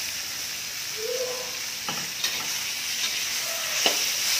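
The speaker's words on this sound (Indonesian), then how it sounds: "Kita tumis sampai wangi ya" Young papaya sautés for sambal in a pan, giving a steady low sizzle with occasional faint scrapes and taps of a spatula, and no talking.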